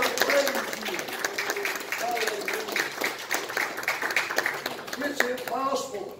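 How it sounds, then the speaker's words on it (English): A church congregation claps along during a Sunday evening service, steady rhythmic hand claps from a roomful of people layered under an excited preacher's voice and scattered vocal responses. "Give the Lord a hand clap tonight."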